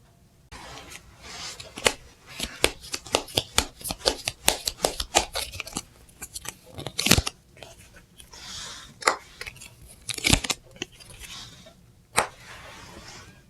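Tarot cards shuffled and drawn by hand, a long run of crisp riffling snaps and slaps at close range in irregular bursts, with short pauses between.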